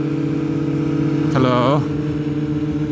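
A Yamaha R6 sport motorcycle rises in a short, sharp rev burst over its steady engine drone, then settles back to an even hum, heard close.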